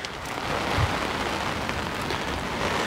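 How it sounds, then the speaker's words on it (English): Steady heavy rain falling at a fishing pond, a dense, even hiss of drops close by with no talk. "in this nasty rain."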